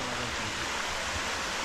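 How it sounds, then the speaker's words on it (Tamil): A small waterfall near a Paliyar tribal village on a hillside rushes in a steady, even wash of water noise with no talking. "ஒரு அருமையான ஒரு சின்ன ஒரு அருவி பாருங்க"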